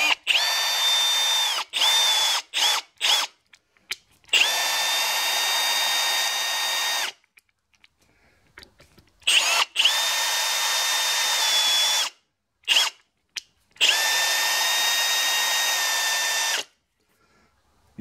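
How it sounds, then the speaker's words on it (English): A new Milwaukee power drill drilling holes in steel vice jaws in a machine shop, heard as several loud, steady high-pitched whining bursts separated by short pauses and brief stops. "my new Milwaukee drill for Christmas. Oh, so much better. Alright, all drilled out."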